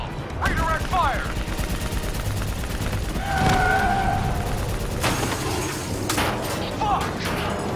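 Bursts of automatic gunfire rattle in a Call of Duty: Black Ops 3 battle, mixed with shouted voices, mechanical thuds and a dense combat din that keeps up the whole time.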